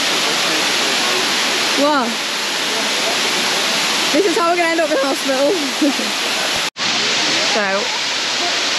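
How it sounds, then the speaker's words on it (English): A steady roar of rushing water from a waterfall on Koh Samui, Thailand fills the whole clip, loud and close, with people briefly talking and exclaiming over it. "at the waterfall"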